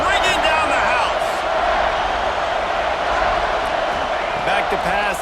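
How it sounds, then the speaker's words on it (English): A stadium crowd roars steadily and loudly in the College Football 26 video game during an Alabama dynasty game, a continuous dense wall of noise, with an announcer's voice and whistles or shouts rising over it. "this crowd is bringing down the house"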